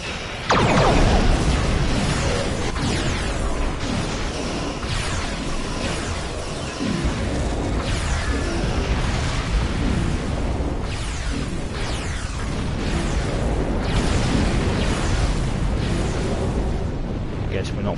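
Starship weapons fire and explode continuously in Star Trek Online, a dense loud barrage of booms, bursts and rumbling, with voices speaking over the battle.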